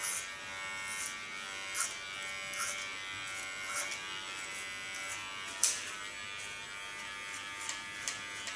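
A large electric hair clipper buzzes steadily through a boy's haircut, close and continuous, its hum swelling in brief surges as the blades pass through hair.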